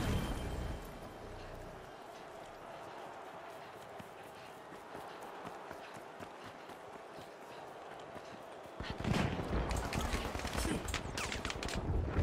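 AK rifle fire in The Finals video game: rapid bursts of gunshots with footsteps and movement, building to heavier, louder sustained firing near the end while a voice talks over it.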